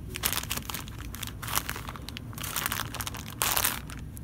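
Plastic bag of an E3D V6 12 volt Bowden all-metal hotend kit being unwrapped, giving close, steady crinkling and crumpling with a few louder rustling bursts, and no speech.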